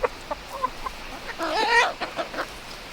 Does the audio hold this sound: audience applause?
no